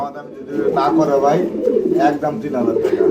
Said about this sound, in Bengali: জলিল ভাই আমরা কিন্তু এখানে আরেকটা জোড়া দেখতে পাচ্ছি ভাই ব্ল্যাক কালার জাগবিন কবুতর